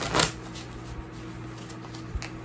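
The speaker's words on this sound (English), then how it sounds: "we'll give these a few shuffles to make sure they're really well mixed in there" A deck of playing cards being shuffled up close during a card trick, with a quick riffling burst at the start followed by faint rustling and a light card tap near the end, with no talking.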